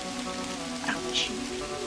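Rain pattering in the video game Kathy Rain as an even, steady hiss beneath a soft held musical tone, with a couple of brief brighter chirps over the top.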